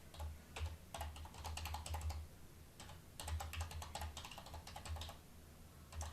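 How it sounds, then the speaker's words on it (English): Typing on a computer keyboard comes in quick bursts of light clicking key taps with short pauses between them, close and moderately quiet, with no talking. "I'm going to type it right now here"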